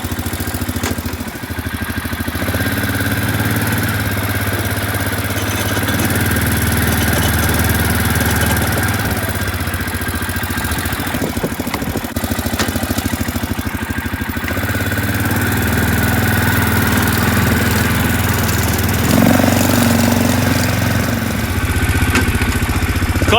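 A rebuilt Arctic Cat 400 ATV engine runs steadily in front of a garage, a continuous close, loud mid-pitched idle with slight knocking and small shifts in revs throughout.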